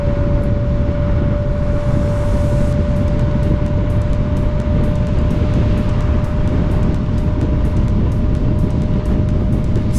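Super Soco TC Max electric motorcycle running flat out near 110 km/h, a steady electric motor whine over heavy, constant wind rush for the full length, loud and close.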